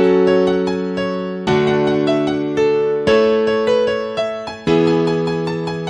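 A trial synth melody for a remix: bright, loud sustained chordal notes change every second or so, with a rhythmic pulse underneath and no voices.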